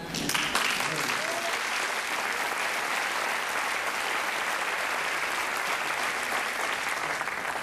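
Sustained audience applause fills a hall during a comedy stand-up show, dense steady clapping that rises within the first half second and carries on evenly throughout, loud and close.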